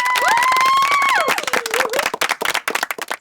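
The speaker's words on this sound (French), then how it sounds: "une belle applaudissement!" A group at a summer camp breaks into applause and cheering, with clapping and shouts up front in the opening seconds, then thinning into scattered claps and voices toward the end.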